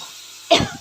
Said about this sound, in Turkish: Biz şimdi öksürüyoruz.